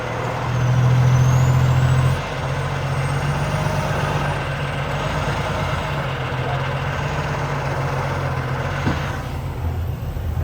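A truck crawls along in low gear on a dirt track, its engine a steady, close low rumble that swells briefly at the start, then holds an even idle-like drone with faint mechanical rattles and no voices.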